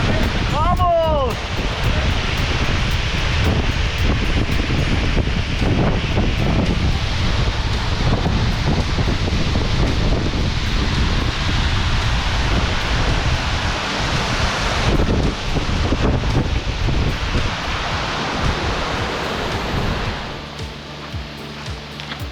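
A steady, roaring rush of falling water fills the scene continuously, loud and close, with some wind buffeting the microphone.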